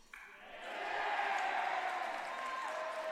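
Crowd noise swells and holds through the moment at a school fencing match between St. Augustine Prep and CBA, a broad sustained roar of voices with a few sharp metallic pings over it.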